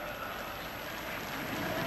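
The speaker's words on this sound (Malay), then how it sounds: "Tepukan semangat untuk para belia kita" A crowd at an outdoor national day field performance applauds youth cadet performers, a steady, dense wash of distant clapping, even and unbroken throughout.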